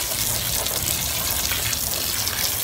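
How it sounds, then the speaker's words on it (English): Water pours steadily over dry clay in a container to reclaim it, giving a loud, continuous gushing splash close by with no break. "I'm going to put just enough water in there to just cover it just a little bit."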